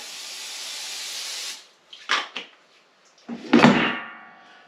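A steady hiss of cooking oil spray into an air fryer for over a second, followed by a few light clunks and rattles nearby, then a louder knock.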